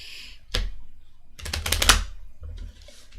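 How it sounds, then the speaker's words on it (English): Small rune stones shuffled by hand, clicking and rattling in two short bursts, first a single knock then a busy cluster of clacks, followed by a softer rattle, close and fairly quiet with no voices. "let's just shuffle these up"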